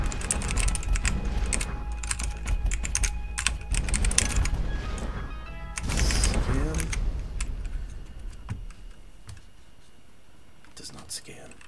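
Keys clatter steadily on an old mechanical keyboard during a ZTY.PE typing game, with quick, close clicks in bursts and a person talking over much of it.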